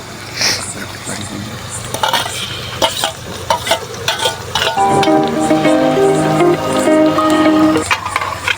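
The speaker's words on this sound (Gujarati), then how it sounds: "ડુંગળી આપણે લાલ થાય તો સુધી રવા દઈએ અંદર થોડી શેકાવા દઈએ" Onions and green chillies fry in a pan for pav bhaji cooked outdoors on a farm, with a steady close sizzle, clinks and stirring scrapes, and a voice speaking over part of it.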